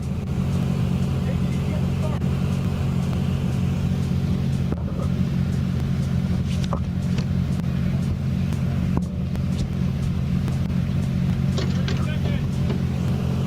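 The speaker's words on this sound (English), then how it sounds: "Charles Chase in the 2024 Can-Am Maverick R." A 2024 Can-Am Maverick R off-road vehicle at the start line of a desert race, its engine holding a steady, loud, low idling rumble with a few sharp clicks and knocks, while an announcer talks over it.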